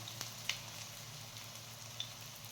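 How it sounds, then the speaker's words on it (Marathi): Methi vada, fenugreek fritters, fry quietly in hot oil with a soft, steady sizzle and a few faint pops and crackles, heard alone. "2 मिनिटे छान अशी फ्राय करून घेऊया"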